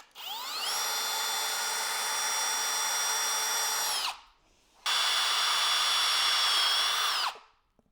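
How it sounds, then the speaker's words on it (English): A power drill drills holes in a floating shelf bracket in two long, steady bursts with a short pause between them, its whine loud and close. "then we're going to drill the holes"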